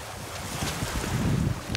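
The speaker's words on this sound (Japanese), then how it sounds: "すごい、こんなとこまで波が来る。" Ocean waves wash up the shore under gusting wind, a rushing surge that builds toward the end with rumbling microphone buffeting and no talk.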